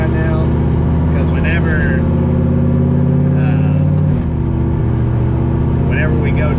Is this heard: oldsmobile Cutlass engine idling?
yes